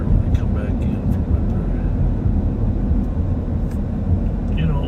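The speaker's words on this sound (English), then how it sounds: "whenever I watch these planes land at St. Paul Airport like that one right in front of us" A plane landing at St. Paul Airport gives a broad, steady rumble that fills the scene, heard from nearby with road-vehicle noise mixed in.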